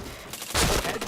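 Video game gunfire from a headshot in a Nobunaga katana shooter match: a short burst of loud, broadband shots swelling midway and lingering about half a second, with no talk over it.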